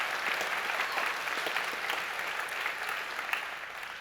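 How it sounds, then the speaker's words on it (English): Sustained applause from a concert audience at a high school spring concert, a steady dense wash of clapping lasting throughout with no talk over it. "Can we give a huge round of applause to the Bonita Center for the Arts under the direction of Miss Melissa Stone?"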